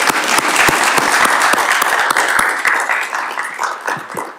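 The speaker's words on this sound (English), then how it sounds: "Can we give them a round of applause?" A round of applause at a town select board meeting, a room of people clapping with distinct individual claps audible, fading gradually toward the end.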